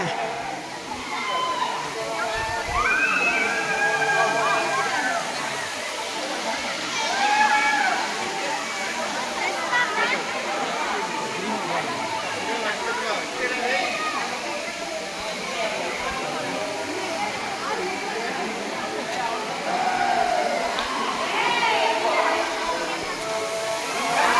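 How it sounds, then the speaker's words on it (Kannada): A steady, rushing roar of water dropping about a hundred feet at Kailasakona waterfalls, Chittoor district, Andhra Pradesh, fills the whole stretch, with people talking over it. "ಹಂಡ್ರೆಡ್ ಫೀಟ್ನಿಂದ ನೀರು ಧುಮುಕ್ತಾ ಇದೆ"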